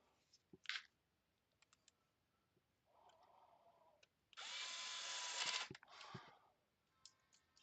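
A powered screwdriver drives the last screws while an Xbox Series X console is reassembled after an HDMI port replacement: a short buzzing run, then a longer louder whir, with clicks and handling noise around them.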